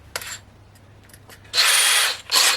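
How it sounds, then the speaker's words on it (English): A cordless power drill bores a 3mm pilot hole, running in two loud bursts after brief trigger blips, close and alone with no talking. "I'm going to drill a pilot hole in each one of those."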